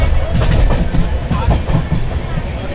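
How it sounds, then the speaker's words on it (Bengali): Heard from inside a passenger train just after it pulls out, a loud, continuous rumble of the moving carriage runs under a rhythmic clickety-clack of wheels on the rails. "ওই যে ট্রেন চলছে"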